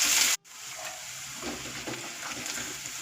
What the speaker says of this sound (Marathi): त्यात जिरे, मोहरी, कांदा, आलं लसूणची पेस्ट असं मंद आचेवर गुलाबी रंगावर परतून घेतलं.